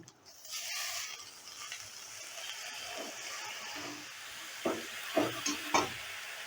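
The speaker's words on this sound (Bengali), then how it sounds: "এবারে দিয়ে দিচ্ছি কেটে রাখা বাঁধাকপি" Chopped cabbage tipped into a pan of lightly fried onion and garlic, a soft hissing sizzle followed by a few scraping stirs and clatters near the end, fairly quiet.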